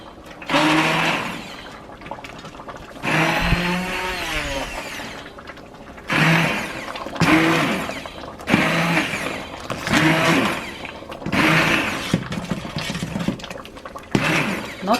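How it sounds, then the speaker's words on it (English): Hand blender whirring through a pot of boiled Tibetan tsoma pama and alla mixture, running in several loud bursts of a few seconds each with short pauses between. "I'm going to use hand blender to make it a little bit finer."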